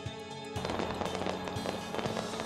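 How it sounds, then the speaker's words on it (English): Fireworks at New Year 2020 celebrations: after a quiet start, a dense run of crackling, popping explosions fills the rest, steady and fairly loud. "Lastly, fireworks,"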